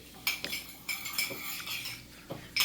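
A spoon stirs a kung pao chicken sauce of sugar and sesame oil in a bowl, clinking against its sides in close, irregular taps and scrapes, with no voices.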